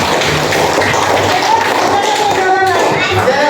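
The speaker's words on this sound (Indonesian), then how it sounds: "Oke, kita beri tepuk tangan." A class of students claps for a classmate, a loud, close burst of hand claps and taps with children's voices mixed in.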